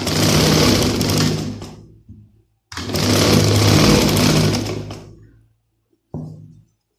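A sewing machine runs in two loud, sustained bursts of stitching on shalwar elastic, separated by a short pause, with a brief third burst at the end.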